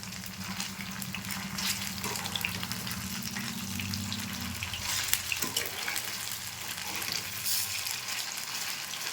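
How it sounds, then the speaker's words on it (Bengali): Chire pakoda made from flattened rice fry in hot oil, giving a steady close sizzle and bubbling hiss throughout, with a few clinks of turning the pieces and a low hum underneath. "দেখুন এগুলো ভাজা হয়ে গেছে"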